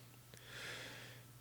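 A quick sneeze in a quiet podcast room, preceded by a small click, then a breathy burst lasting under a second over a faint steady hum.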